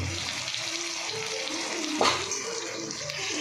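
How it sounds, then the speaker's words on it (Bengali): Ginger, garlic, onion and tomato frying with chicken in a pan, a continuous, fairly loud hiss with a brief sharper burst midway. "এবার আমি চিকেনটা ঢেলে দেবো"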